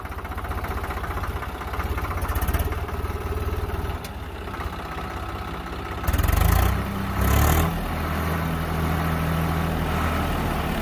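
Tractor engine starting, then idling steadily with a low diesel rumble throughout, rising in brief louder bursts where the throttle is revved, close by and loud with no talk.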